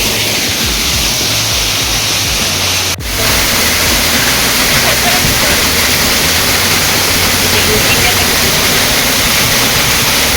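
Rampa waterfall pouring continuously, a dense unbroken roar of falling water close to the microphone, steady and loud throughout with a brief knock near the middle.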